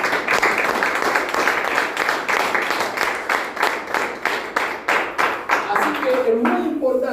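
A church congregation claps in a quick, even rhythm during a sermon on faith, loud and close, with the beats slowing and breaking up as a voice begins speaking near the end.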